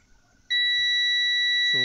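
A continuity tester held across a transformer winding sounds one steady, piercing electronic buzz. The tone cuts in sharply and holds unbroken to the end after a quiet start, close and loud.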